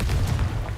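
Confringo blasting spell detonating in Hogwarts Legacy, a short, dense low-end boom that holds loud through under a second with no clear gap.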